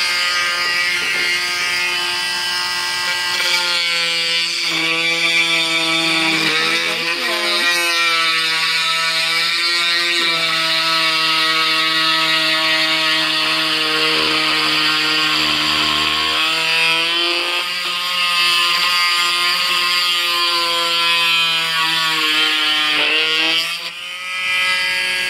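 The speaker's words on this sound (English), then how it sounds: "I have my Dremel Multimax tool. I'm gonna turn it on." Dremel Multimax oscillating tool set to power 2 cutting a miniature dollhouse window: a loud, steady high-pitched buzzing drone that shifts pitch as the blade bites, running continuously for the whole stretch with no talking.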